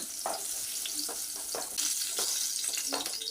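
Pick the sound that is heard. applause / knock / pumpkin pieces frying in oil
pumpkin pieces frying in oil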